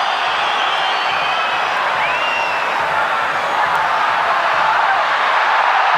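Home crowd of Uruguayan football fans in a packed stadium during a 2005 World Cup qualifier against Australia, a steady loud roar of voices and chanting filling the whole stretch without letup.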